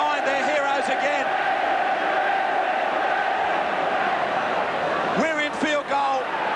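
Crowd at a 1990 Kangaroos versus Great Britain rugby league Test match roaring steadily throughout, with a commentator's voice over the din and a swell of shouts near the end.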